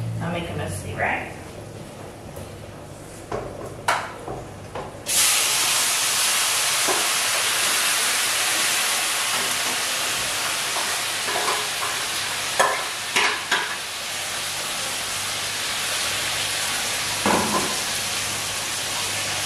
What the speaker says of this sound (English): I'm going to try putting the pork now